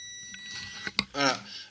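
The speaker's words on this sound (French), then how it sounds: "Vous entendez le bip?" A multimeter on continuity test sounds a steady high beep across a short-circuited TV chip, fairly quiet and continuous beneath a man's speech.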